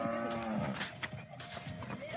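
A cow at a farm near Jamnagar gives a drawn-out moo, fairly close but soft, with faint background shuffling and no speech.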